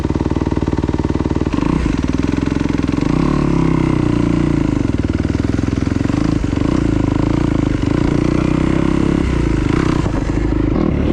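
A 2024 Kawasaki KX250F fuel-injected dirt bike rides along a woodland trail, its engine loud and close throughout with steady droning, shifting revs and clattering bumps.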